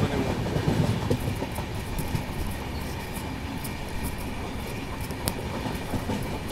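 Passenger train coaches rolling along a diesel rail route between Miraj and Bangalore, a steady loud rumble of wheels on track with faint clickety-clack throughout, no voices.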